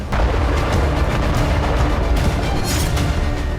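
Heavy booming blasts roll out in a dense, rumbling burst, loud and continuous, with no voices.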